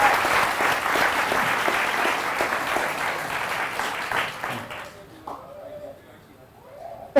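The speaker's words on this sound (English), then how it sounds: "Please just give him a round of applause" Audience applause and cheering at a podcast book launch, loud and sustained for about five seconds, then fading to scattered claps and murmuring crowd voices.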